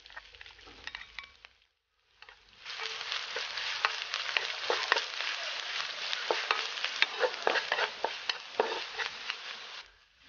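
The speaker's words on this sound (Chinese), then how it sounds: "锅里面热油，倒入切好的配料" Chopped ingredients stir-fried in hot oil in a wok: a short quiet start, then a sudden loud sizzle with repeated clicks and scrapes of stirring, close and continuous.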